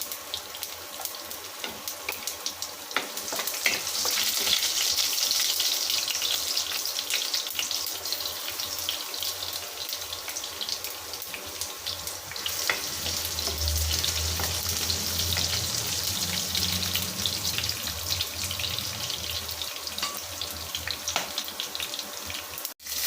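Garlic and green chillies fry in hot oil with mustard seeds, a steady close hiss and sizzle running throughout, swelling louder after the first few seconds with low bubbling underneath.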